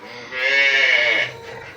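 A Friesian or Sahiwal cow at a cattle market gives a single loud, drawn-out moo lasting about a second, close by, with no talk over it.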